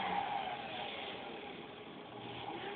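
A small electric motor on a Singer sewing machine runs with no belt attached, giving a steady, fairly faint whirring hum that holds at an even pitch throughout.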